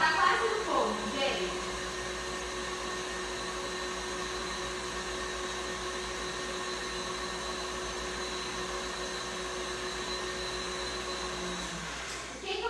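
A stand mixer whips cream in a bowl for a Christmas cake, giving a steady, loud motor whir that runs unbroken throughout, with a faint voice under the hum.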